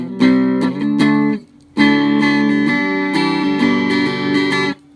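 Electric guitar through a homemade retro teddy fuzz circuit with slight distortion, gritty sustained chords struck in a few bursts with brief gaps, loud and close.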